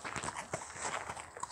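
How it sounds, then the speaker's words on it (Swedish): A grey horse walks close by, its hooves clip-clopping in a steady, moderately loud rhythm of short knocks with no talk over them. "Grå häst."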